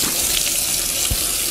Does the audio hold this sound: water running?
yes